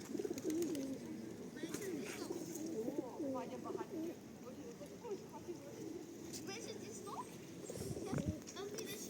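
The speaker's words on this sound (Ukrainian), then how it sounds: "Красені голуби." Pigeons coo repeatedly in a low, rolling burble, fairly close, with flutters and outdoor background noise around them.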